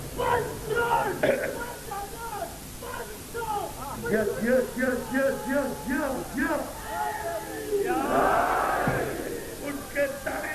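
A large crowd at a 1995 religious gathering chants slogans in loud, rhythmic bursts of massed voices, with repeated shouted phrases and a swelling roar near the end.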